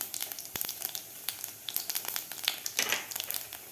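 Cumin and asafoetida hit hot oil with popped mustard seeds, crackling and sizzling in sharp close bursts of spitting pops over a frying hiss, with no talk.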